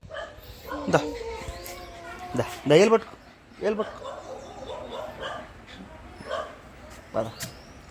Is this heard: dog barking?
yes